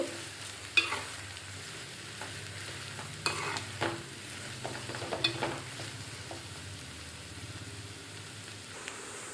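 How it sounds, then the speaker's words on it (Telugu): Flat broad beans frying in oil until brown for a tomato masala curry, with a steady close sizzle under occasional scraping stirs of the spoon against the pan. "ఇవి బ్రౌన్ కలర్ వచ్చే వరకు వేయించుకుని"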